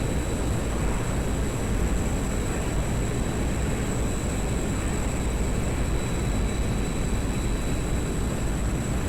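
Steady, loud roar of a MiG-21 jet engine running on afterburner in the DCS World flight simulator, a broadband rumble holding constant throughout with no talk.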